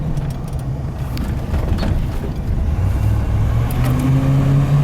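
A one-owner 1989 Ford F-350 XLT Lariat crew cab 4x4 with a 7.5L 460 V8 and 95K miles runs in a steady, deep, close rumble that swells slightly louder toward the end.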